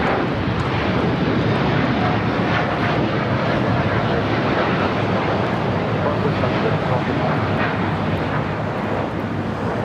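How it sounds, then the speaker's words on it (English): A Japan Airlines Boeing 787-8 Dreamliner departs LAX for Tokyo Narita, a dense, sustained jet roar holding steady and loud for the whole stretch while voices talk beneath it. "This is Japan Airlines Flight 61 taking off to Tokyo Narita on a 787-8 Dreamliner"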